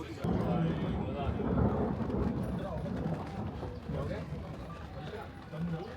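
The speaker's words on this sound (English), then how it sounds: "It was a loud thunder." Loud thunder in Ladakh rolls as a long, broad rumble that swells and fades over several seconds, with voices faintly present beneath it.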